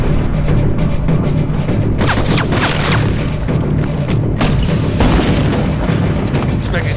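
Heavy gunship fire from Spectre 6-4 pounds the west barracks in a Call of Duty battle, a loud continuous barrage of booming explosions and crashing impacts with bursts of debris, under faint voices.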